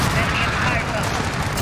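Dense, overlapping gunfire from Modern Warfare rattles steadily at close range, with voices talking over the shooting.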